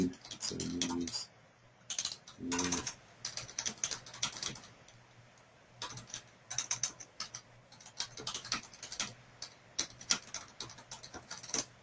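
Fingers typing text on a computer keyboard, quiet irregular bursts of clicking keystrokes separated by short pauses, close and faint.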